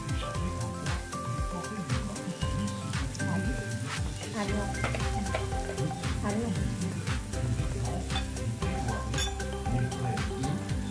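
Steady sizzling of raclette cheese frying in a small pan, with occasional clinks and scrapes of utensils and someone talking over it.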